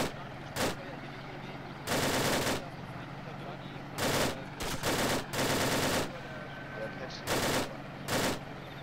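Gunfire in the video game ArmA 2, loud bursts of automatic weapon fire in several clusters with brief gaps, heard amid a battlefield scene.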